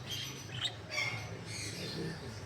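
A pair of lutino lovebirds in a breeder's cage squawk and chirp in short bursts close by, over a steady low background hum.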